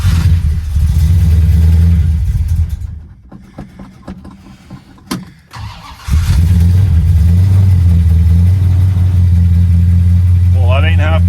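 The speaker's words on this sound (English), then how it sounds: "So we can get this 440 started." A 1968 Dodge Coronet R/T with a 440 V8 cranks and fires in cold weather, its loud, rumbling idle running close by, dropping briefly to a rough stumble before catching again at a steady throb, with a voice speaking over it.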